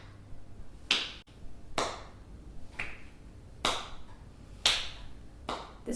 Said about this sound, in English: I'm going to clap at the top and behind me